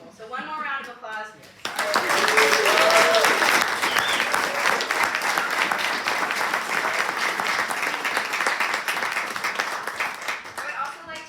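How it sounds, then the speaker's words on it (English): Speech is heard briefly before a large audience breaks into loud, sustained applause for presenters and their parents, with the clapping holding steady and dense, and a cheer or two rising over it. "So one more round of applause."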